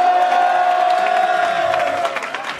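Crowd at a Punch Mania slap-fighting event cheers and claps after a fight verdict, a dense, loud wash of voices and applause with a steady whistle-like tone running through it, fading slightly toward the end.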